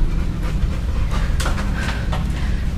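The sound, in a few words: pit bull dogs panting with tongues out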